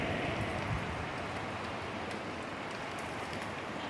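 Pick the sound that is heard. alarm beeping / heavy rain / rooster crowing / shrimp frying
heavy rain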